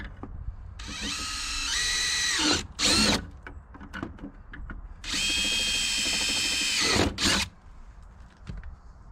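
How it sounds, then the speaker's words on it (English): A power drill whirs in two sustained bursts with rising pitch, separated by short clicks and handling noises, close up and loud. "We're going to drill our 2 holes."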